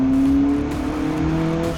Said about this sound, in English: That thing's not slow either. That is a proper race car.